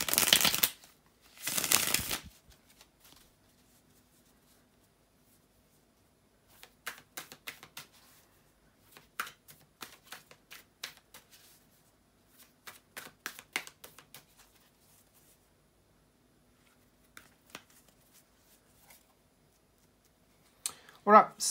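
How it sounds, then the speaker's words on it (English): Tarot cards shuffled by hand: two loud riffling bursts at the start, then quieter intermittent shuffling and card slaps in clusters, with near-silent gaps between them. "bear with me a second, guys, to shuffle the tarot cards"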